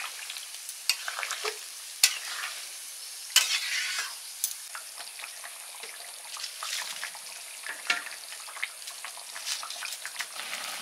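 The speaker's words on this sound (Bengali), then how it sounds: "ঝোল ফুটে গেছে" Fish curry gravy bubbles and sizzles in a pan after garam masala paste is added, a soft frying crackle with scattered sharp stirring scrapes and clinks, alone and close.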